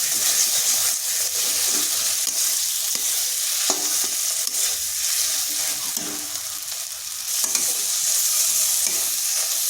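Mashed flat beans are stirred nonstop in a kadai, giving a continuous soft sizzle with repeated scraping strokes of the spatula close by, with no talking.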